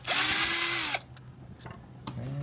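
A power drill whirs loudly for about a second as it backs screws out of a Bissell Revolution carpet cleaner pump, followed by light clicks and handling, then the motor starts spinning up again.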